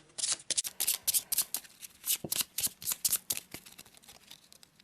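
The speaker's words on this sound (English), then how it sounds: "So let's give it a shuffle." Deck of Arkham Horror board game cards being shuffled by hand, a close series of rapid crisp riffling bursts repeating steadily for several seconds with no talking.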